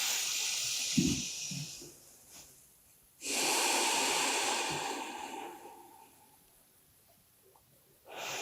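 Slow, audible breaths in and out during a gentle pregnancy yoga flow, with long airy exhales that swell and fade, close and fairly quiet, separated by stretches of near silence.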